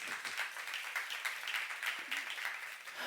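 Church congregation applauding during a sermon at a youth service, a steady, fairly faint wash of many hands clapping that continues throughout.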